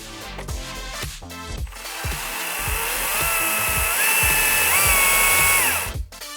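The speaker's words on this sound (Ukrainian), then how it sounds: "Ви можете використовувати важель керування з функцією потенціометра, щоб плавно регулювати швидкість вашої ланцюгової пили." STIHL MSA 70C cordless chainsaw revving in short bursts, then running steadily with its speed rising and falling in a high whine before cutting off; close and loud, with no talk.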